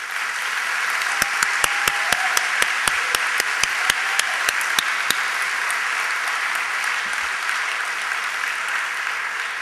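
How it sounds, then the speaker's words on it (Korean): A church congregation breaking into applause, with sharp individual claps standing out over the first few seconds before settling into a steady, full wash of clapping. "사랑의 하나님께 영광의 박수를 올려드립시다."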